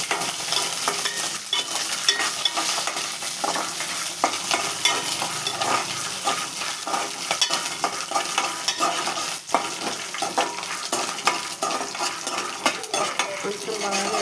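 Curry leaves frying in hot oil until golden, a steady close sizzle with scattered scraping stirs and utensil clinks throughout, no talking.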